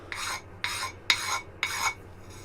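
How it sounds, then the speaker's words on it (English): A triangular diamond needle file deburring the edge of a metal part, four quick rasping strokes in a steady rhythm about half a second apart, close and fairly quiet with a faint low hum beneath. "I've got this little diamond needle file"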